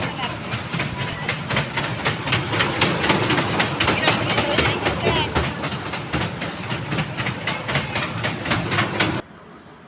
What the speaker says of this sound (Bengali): আগে মামকে টয় ট্রেনে চড়াবো তো তারপরে মেলাটা ঘুরবো